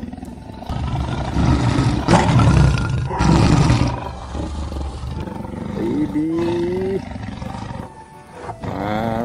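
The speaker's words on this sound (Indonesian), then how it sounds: "ada singa, teman-teman." A lion roars in two loud, long bursts close by, followed by quieter rumbling and an excited voice speaking over the background.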